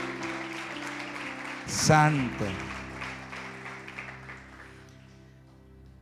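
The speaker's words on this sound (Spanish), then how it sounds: "Denle un fuerte aplauso a la palabra de Dios." A church congregation claps in a broad wash of applause that peaks briefly as a voice calls out, then fades gradually over several seconds.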